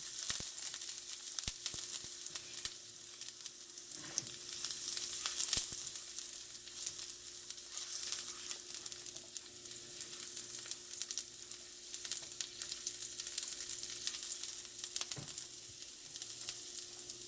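Garlic sizzles quietly and steadily in a frying pan while being stirred, with occasional soft scraping and clicks over a continuous hiss while prepping a breakfast frittata.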